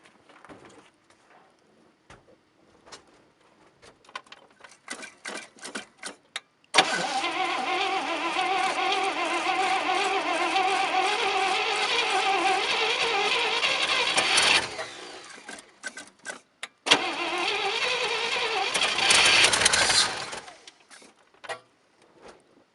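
A 1967 International 4x4 truck, revived after 20 years and run on choke, goes through irregular clicks and rattles before long rough cranking bursts and engine noise, with two sustained runs separated by a short gap.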